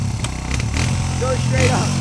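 A dirt bike engine runs with a rough, buzzing motor note close by, steady throughout, while people talk over it.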